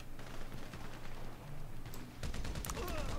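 Weapon fire in the video game GTA Online comes as a loud, dense burst of rapid shots, sharpening into crisp cracks near the end, with a steady low game hum underneath.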